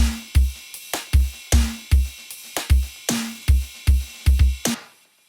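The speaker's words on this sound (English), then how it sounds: "Drums all together in this section." Full drum section of a mixed music track playing alone: a dozen punchy, evenly spaced hits with deep kick thumps and bright snare cracks, each ringing briefly, ending abruptly in silence.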